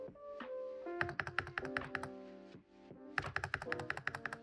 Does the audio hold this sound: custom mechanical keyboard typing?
yes